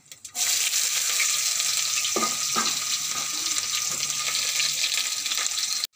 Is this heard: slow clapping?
no